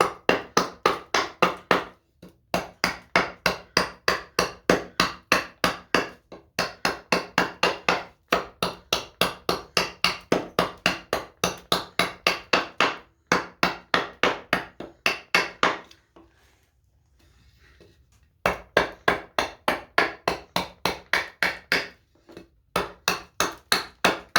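Rapid bursts of sharp tapping as a hatchet head is knocked tight before carving cedar, each run of evenly spaced knocks broken by short pauses, loud and close with no talk.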